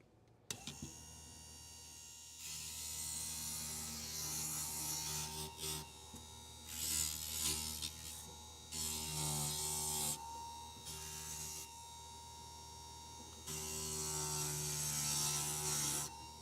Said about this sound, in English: Go ahead and clean this up on the grinder.